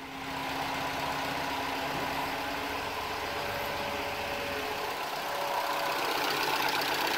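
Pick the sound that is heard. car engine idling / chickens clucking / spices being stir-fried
car engine idling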